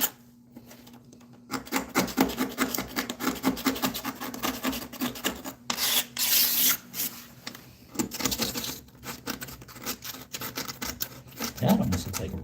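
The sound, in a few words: scraping old caulk and crud off a bathtub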